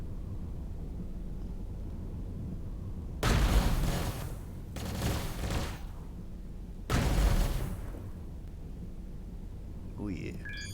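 Ship weapons on auto fire in the space game Avorion erupt in three loud, rumbling barrages of rapid blasts over a low drone of engine hum, each burst lasting about a second.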